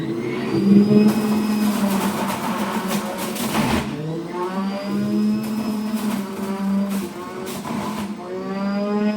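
An electric juicer whirs steadily and loudly throughout, its pitch wavering as produce is fed in, with grinding and rattling under the hum.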